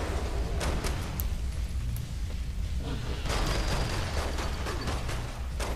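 An explosion in the Saints Row The Third video game, a continuous roaring rumble with crackling bursts and debris-like clatter, loud and steady throughout.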